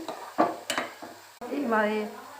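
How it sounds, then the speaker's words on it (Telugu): Tomatoes drop into hot tempering in a pan and catch a rising sizzle, preceded by a few sharp utensil clanks and stirring scrapes, close and fairly quiet. "ఇలా పోపు పెట్టేసుకొని దీంట్లో టమాటాలు అన్నీ వేసుకొని పోపు పెట్టేసుకోండి"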